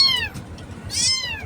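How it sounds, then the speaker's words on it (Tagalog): Two clear, close meows from a young kitten, one taken from acacia trees where it had been abandoned, each a high descending cry with a quieter gap between them. "Kinuha ko yung pusa."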